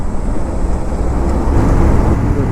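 Traffic on a village road in Haryana, a steady rumble of passing vehicles heard from inside a moving car. The road noise swells slightly toward the end.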